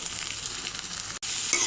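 Chopped onion and green chili fry in a pan for cabbage rolls, making a close, even sizzle with light stirring texture that cuts out for an instant and then resumes, with no talking.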